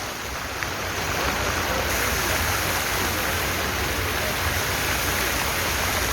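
Water from a public fountain in Lille, France, runs and splashes in a steady, loud, continuous rush that fills the whole moment without a break, with no voices over it.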